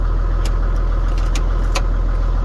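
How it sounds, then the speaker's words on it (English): A Toyota Land Cruiser 80 Series turbo engine keeps idling after shutoff on a turbo timer, a loud, steady low rumble close by, with a few brief metallic jingles of keys over it. "when you turn it off, it keeps running just to exhaust"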